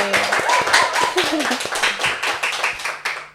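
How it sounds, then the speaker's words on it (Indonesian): A small audience claps along on an Indonesian baby-care podcast, steady dense hand claps with a few sharper taps, close and loud, with a voice talking briefly over the clapping. "Minta tepuk tangannya dong teman-teman."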